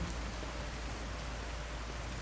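Continuous rain pours down in Skyrim, an unbroken broadband patter of drops on surfaces with a soft low rumble, steady in level and heard alone.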